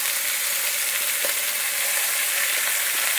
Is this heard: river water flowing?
no